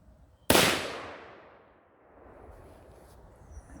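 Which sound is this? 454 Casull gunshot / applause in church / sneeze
454 Casull gunshot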